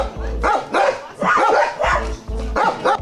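A dog barks in an apartment, loud and close: a series of about five sharp barks in an irregular rhythm, with brief pauses between them.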